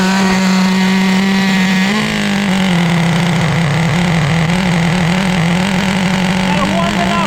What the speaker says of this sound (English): Let's fire up the Traxxas Slayer